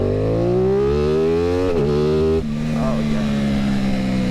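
An Aprilia Tuono 660 motorcycle fitted with an aftermarket eBay exhaust accelerates hard in first gear, its loud, close engine note rising before a gear change, then droning on steadily; a voice briefly exclaims over it.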